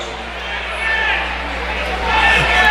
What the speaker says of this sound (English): You could hear the reaction of the crowd on that call.